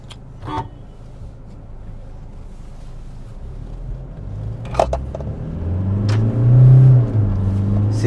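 Toyota Hilux engine in drive revving up to about 4000 rpm while accelerating, a deep rumble rising in pitch and loudness, close and continuous, with a few brief clicks early on.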